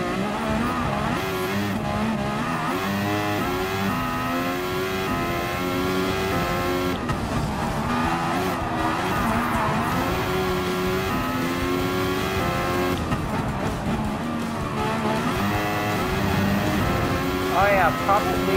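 A Mercedes-AMG F1 race car engine in Gran Turismo Sport whines at high revs, rising and falling with gear changes as the car laps a track. A player talks over the continuous engine drone.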